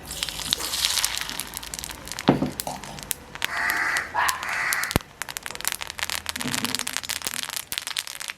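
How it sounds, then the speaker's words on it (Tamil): Half a spoon of mustard seeds spluttering and popping in hot oil while making garlic chutney, a dense, continuous crackle with sharper pops throughout, close by. "இப்போ நாங்கள் இதில் ஒரு 1/2 கரண்டி கடுகு போட போகிறோம்"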